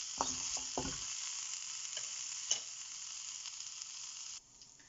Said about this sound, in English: if we pour salt on onion will fry and soften very quickly